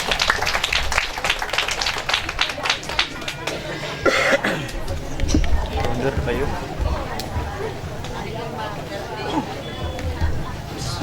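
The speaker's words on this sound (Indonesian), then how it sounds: "Boleh tepuk tangan nih." Clapping from an audience at a TPQ Qur'an graduation ceremony comes in quick bursts under crowd chatter, fading into murmuring voices and an occasional cough.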